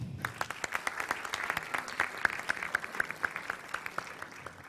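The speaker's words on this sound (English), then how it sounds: "So a big clap for Ekaterina Matbeva." An audience at a planetarium talk claps steadily, a dense crackle of many hands applauding together at moderate loudness, with no voices on top.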